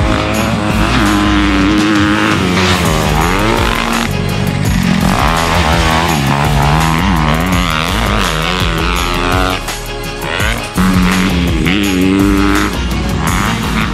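A 2021 Kawasaki KX250 motocross bike is ridden hard, its engine a loud, continuous rasp that revs up and down in steady surges, close and alone.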